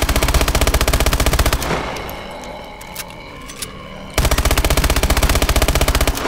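Video game gunfire while shooting zombies: two long bursts of rapid automatic fire, loud and close, separated by a short lull of quieter game ambience.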